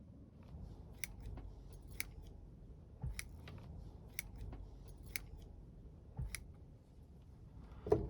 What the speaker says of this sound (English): I just want to snip off some of these extra long roots here